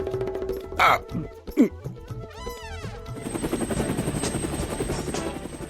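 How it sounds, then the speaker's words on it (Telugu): After brief speech, a helicopter engine whirs up into a rapid, steady rhythmic chopping with a high whine, continuing to the end. "ఇప్పుడు ఆ ఇంజిన్ ఎందుకు స్టార్ట్ చేసావు?"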